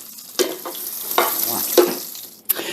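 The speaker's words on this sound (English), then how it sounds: "I'm going to saute up the others, and then we'll be back." Shrimp sautéing in butter and olive oil in a pan, a steady close sizzle broken by several sharp scraping stirs at irregular intervals, with no talking.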